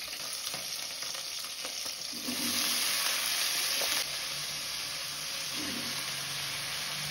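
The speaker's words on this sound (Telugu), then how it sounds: "ఈ బెండకాయలు తీగలుగా రాకుండా ఉండడం కోసం ఒక 2-3 నిమిషాలు ఫ్రై చేసుకోవాలి." Okra and mixed vegetables fry in hot oil in a pan for Sankranthi sambar, giving a steady close sizzle that swells briefly midway as they are stirred. No one speaks.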